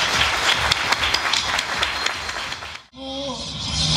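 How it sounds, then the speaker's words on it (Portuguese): Audience at a nail and arts event breaking into dense, loud applause that cuts off abruptly, followed by a brief tonal sound. "Meninas, aplaudam, por favor"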